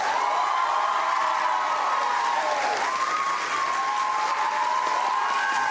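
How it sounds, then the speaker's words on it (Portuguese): Steady, loud studio audience applause during a late-night talk show comedy roast battle, continuous clapping with a sustained tone running underneath throughout. "aplausos."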